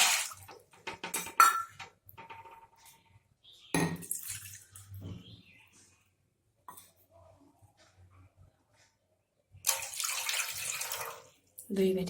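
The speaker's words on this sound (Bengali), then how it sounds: "দিয়ে দেবো 2 বাটি জল।" Water from a bowl poured into a cooking pan for sugar syrup makes short splashing gushes, with one near the start, a brief one in the middle and a longer pour at the end, separated by quiet.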